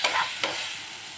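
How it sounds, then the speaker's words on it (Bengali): Small soya chunks sizzle in a pan at close range, with two quick scraping stirs at the start over a steady frying hiss and no voices. "আর এখানে দেখো আমার সোয়াবিন হচ্ছে এখন"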